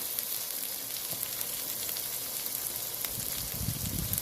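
Tinned mackerel sizzling in a pot during a Jamaican yard-style breakfast cook, a steady hissing fry with fine crackles and a louder bubbling surge toward the end.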